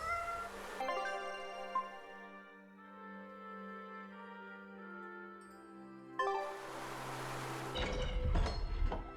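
A cat meows in a long, drawn-out call that rises and falls across several seconds, loud and near, then gives a sharper cry near the end over background game sounds.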